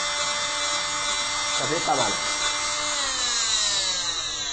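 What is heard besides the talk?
cast saw vibrating through a plaster cast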